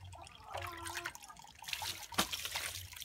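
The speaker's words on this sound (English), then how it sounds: "The extra water drains out of here" Water from hand-washed clothes drains off a washboard in Nicaragua, trickling and splashing irregularly at close range, with a brief sharper splash near the end.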